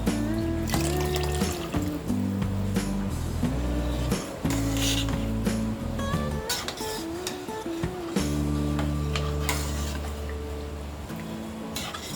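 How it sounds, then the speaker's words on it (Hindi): Water pours steadily into a pot of sprouted moth beans and white peas for misal, a continuous trickling fill under a layer of background music, with no talking. "इसमें डालेंगे ये 1 कप पानी"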